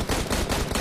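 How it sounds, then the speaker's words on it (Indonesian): Rapid automatic gunfire bursts in a PUBG battle royale match at Pochinki, loud and continuous, short clattering volleys with no talk. "Tembakan berterusan daripada Mela"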